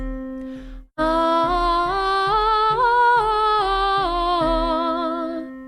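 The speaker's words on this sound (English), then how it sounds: "You would play the tonal and sing the third. So it would sound like this." A sustained keyboard tone steps through a scale while a voice sings a harmony line a third above it, note by note at an even pace, close and clear.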